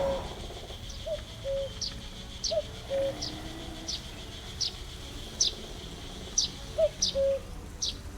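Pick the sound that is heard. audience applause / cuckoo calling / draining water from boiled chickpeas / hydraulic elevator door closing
cuckoo calling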